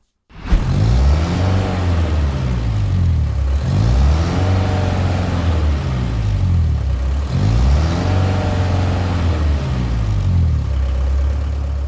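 A Mercedes-Benz Unimog engine in Gran Turismo 7 revs loudly and steadily, rising and falling in three or four repeated throttle sweeps over a constant low, gruff drone.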